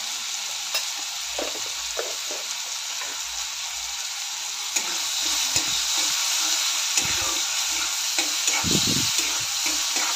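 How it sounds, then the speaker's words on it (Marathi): Tomato and onion sauté in a pan with salt for a beans bhaji, giving a steady close sizzle throughout while a spoon scrapes and stirs in scattered soft strokes, with no talking. "लालसर होईपर्यंत चांगलं भाजून घ्यायचं आहे टोमॅटो आणि कांदा"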